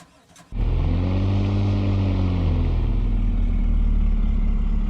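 In a video game, after a brief click, a car engine cranks to life and revs, its pitch swelling then settling into a loud, steady idle rumble.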